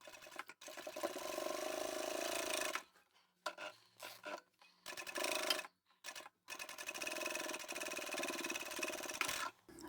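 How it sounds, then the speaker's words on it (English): A domestic sewing machine top-stitching a fabric bag lining, whirring in short bursts that stop and restart several times between pauses, close and fairly quiet, with no talking. "And we can sew that in place and then top stitch."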